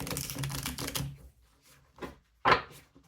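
Tarot cards being shuffled in short bursts, with quick riffling and flicking near the microphone, then a pause and a couple of softer shuffles and a sharp final snap of the deck.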